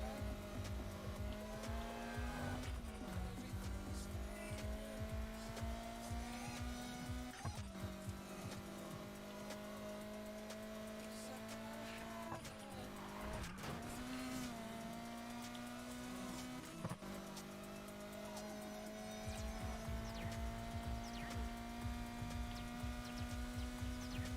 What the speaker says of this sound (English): slowly starting to get used to this car again